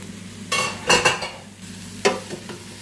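Mushrooms for risotto are stirred in a hot pan, with a few close scraping strokes and light sizzling between them, and no talk.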